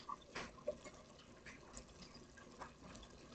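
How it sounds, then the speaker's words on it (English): Water draining and dripping from an emptied bean can set down on a kitchen counter, a faint trickle with a few small splashes and drips, alone and quiet. "As soon as the water drains out"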